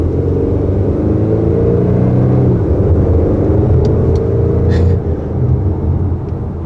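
A 2021 Acura TLX Advance sedan engine hums and rumbles steadily as the car accelerates, with a brief faint squeak near the end; no talking.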